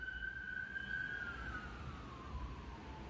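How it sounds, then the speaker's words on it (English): A distant ambulance siren wails faintly, its tone sliding slowly downward as it fades, over a low rumbling background. "It sounds like an ambulance."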